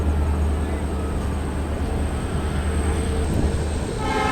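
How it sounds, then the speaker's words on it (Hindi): The Dibrugarh Rajdhani Express runs at speed while overtaking the Brahmaputra Mail near Fakiragram Junction, a steady loud rumble of wheels and carriage noise heard from on board. "अब हम फकीरा ग्राम जंक्शन से ब्रह्मपुत्र मेल को फाइनली ओवरटेक करते हुए आगे निकल रहे हैं"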